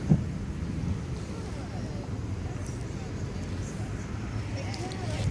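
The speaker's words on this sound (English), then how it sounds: "So it is windy here, so that could affect my audio quality." Wind buffets a nearby microphone with a low, steady rumbling roar, broken by a brief thump at the very start.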